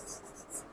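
Numbers are written out during a maths worksheet solution on squares and square roots, heard as a few quick, faint scratchy strokes close by with no voice.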